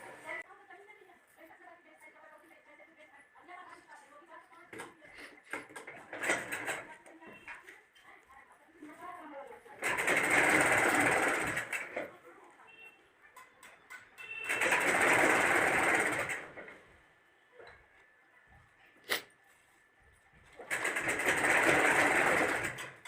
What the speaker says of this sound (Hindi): अब इसे सिलते हैं।